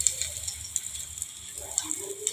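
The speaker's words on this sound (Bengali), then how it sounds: "একটু কম আঁচ করে ভাজতে হবে, তাহলে সমানভাবে ভাজাটা হবে।" Soya tikka pieces fry gently in a pan over low heat, a soft steady sizzle with small crackling pops scattered across the short stretch, quiet and close.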